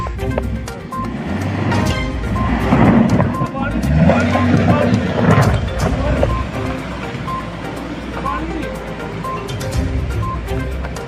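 A car engine runs while the vehicle is stuck in fresh snow on Mughal Road in the Pir Panjal region. A loud, rough rumble churns throughout, mixed with wind noise and someone talking.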